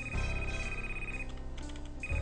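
A telephone ringtone from a Flash spy video game rings in a steady electronic tone, pausing briefly before resuming, loud and alone with no talk.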